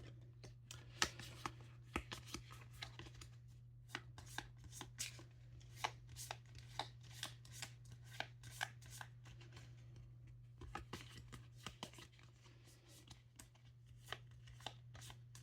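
Playing cards shuffled by hand for a tabletop game, a quiet run of crisp, irregular clicks and riffles over a low steady hum, no talk.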